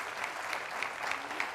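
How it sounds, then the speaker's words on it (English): Audience applause at a business conference talk, a soft, even patter of many hands clapping in a hall, heard at a distance and fairly faint but continuous throughout. "go ahead, you can clap"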